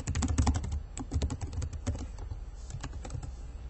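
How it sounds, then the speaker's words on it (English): Rapid typing on a computer keyboard, a dense, fast run of crisp key clacks close to the microphone that thins slightly toward the end. "You can type in comments here at the bottom if this option is turned on"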